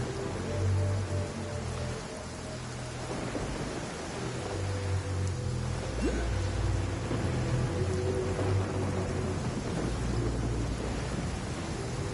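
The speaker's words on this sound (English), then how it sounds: "Let us find shelter from the rain." Steady rain falls with low rolling thunder in the Genshin Impact game world, a continuous hiss of downpour and deep rumbles throughout, with no voices.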